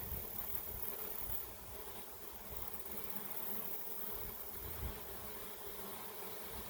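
A swarm of honey bees fills the air with a dense, continuous buzzing hum, steady and enveloping with slight swells, heard outdoors without speech.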